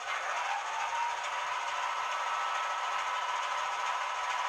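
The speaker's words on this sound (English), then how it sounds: "F11 is engine running noise compressor." Heljan Class 33 model locomotive playing its compressor sound, a steady mechanical whirring hum that holds at an even level throughout, fairly quiet, with no talking.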